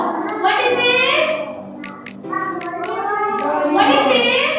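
Children clapping rhythmically in a preschool setting, sharp hand claps in short bursts mixed with a child's sing-song voice.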